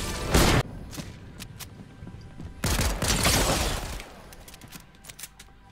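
Two loud bursts of rapid hand cannon gunfire in Fortnite, one short and one longer, each ending abruptly, followed by scattered sharp clicks and thuds.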